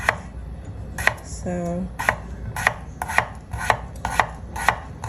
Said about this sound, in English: Gotta cut the sides this way.